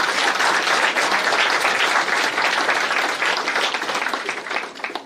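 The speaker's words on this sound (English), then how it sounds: "please give them a rousing clap" An audience at a dental college congress breaks into a lively round of applause, many hands clapping densely and evenly at close range with no speech.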